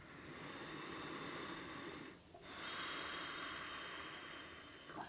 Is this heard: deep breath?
yes